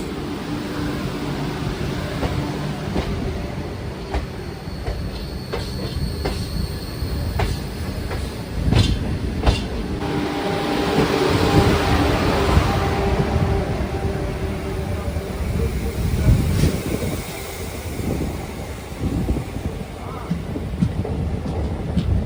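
Netaji Express 12311 pulling out of Howrah station, a steady broadband rumble of rolling stock with wheel and rail clatter and occasional squeals, continuous and fairly loud throughout.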